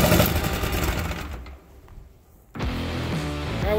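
Small engine of a DIY foam shredder for styro aircrete, idling on low throttle outdoors on a windy day. It makes a steady, close buzzing drone that dips to near quiet for about a second, then snaps back to full strength, with no voices.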